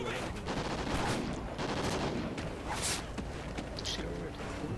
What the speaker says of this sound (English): But I am going to fire my pistol